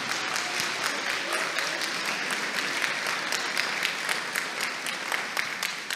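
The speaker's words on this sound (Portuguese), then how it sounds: "Dá uma salva de palmas para esse menino, gente." A church congregation applauds a young boy, steady dense clapping from many hands filling the room for the full six seconds with no talk over it.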